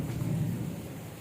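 Steady rainfall with a deep, low rumble of thunder rolling underneath, continuous and fairly distant, with no voices.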